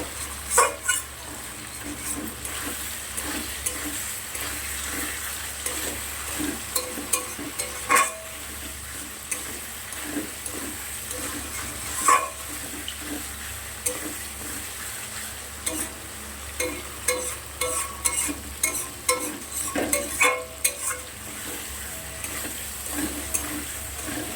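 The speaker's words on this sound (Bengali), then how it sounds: "বেশ কিছু সময় কষিয়ে নেব।" Spices being sautéed for a katla fish curry with potatoes and onions, giving a steady soft sizzle with repeated scraping and stirring clinks from a spoon against the pan throughout, no talking.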